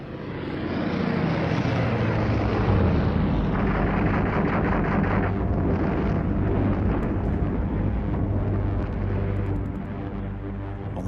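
In a wartime air attack over Normandy, fighter aircraft fire rockets and cannon: a dense, continuous roar of engines and blasts with rapid rattling, loud and sustained throughout, with no talking.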